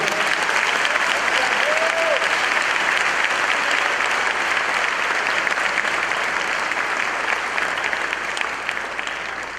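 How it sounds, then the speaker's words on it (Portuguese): A church congregation applauds during a bishop's testimony, loud dense clapping that holds steady throughout and tapers slightly at the end, with a brief voice or cheer near the start. "Pode aplaudir a Ele."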